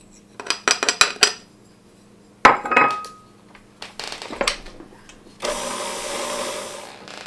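A mixer blends sugar into cheesecake batter, starting as a steady whirring drone near the end. Before it, spoons and bowls clink and clatter in a few loud bursts.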